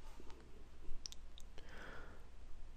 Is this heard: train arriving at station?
no